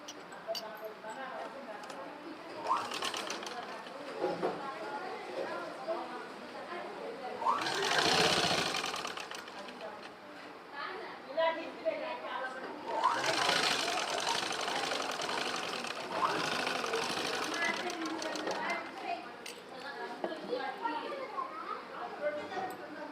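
A sewing machine runs in long bursts while double-folded fabric is stitched at the neck of a small child's dress, the motor's whir rising and pausing, with someone talking and children's voices in the background.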